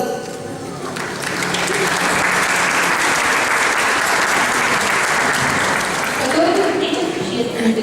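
Loud, sustained audience applause at a public hearing in Odesa as the city mayor arrives, dense clapping that rises after someone speaks briefly and then rolls on evenly, with voices returning faintly at the end.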